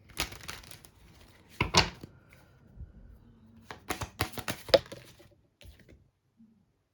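Scorpio Moon intuition cards are shuffled by hand in short bursts of crisp riffling and slapping, several separate flurries close up with quiet gaps between and no talking.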